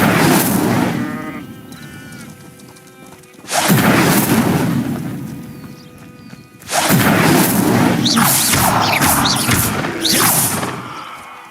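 The Incendio fire spell being cast in the Hogwarts Legacy video game, loud whooshing fiery bursts in two or three swelling waves with crackling tails, over a steady ambient game background, no talking.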